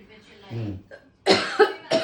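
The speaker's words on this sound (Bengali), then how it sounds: "খক খক খক শুকনো কাশি হচ্ছে" A person with an irritated throat lets out a few short, dry coughs in quick succession after some quieter throat sounds, heard close and fairly loud.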